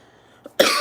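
A single sharp cough from one person, loud and close, bursting out abruptly after a tiny throat sound and lasting to the end.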